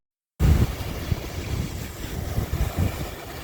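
Ocean waves wash onto a sandy beach in loud, rushing surges and wind noise after a brief silent start, with no talk.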